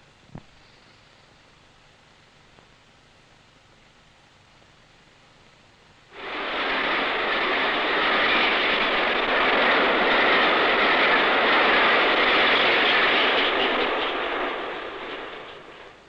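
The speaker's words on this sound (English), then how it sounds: "a sight and a sound which provided ample evidence of the modern diesel-electric locomotive's capacity to cope with the long drag" A diesel-electric locomotive hauling the Thames-Clyde Express bursts from a tunnel on the Settle–Carlisle line, its roar rising abruptly from near silence to a loud, sustained rumble that fades slightly at the end.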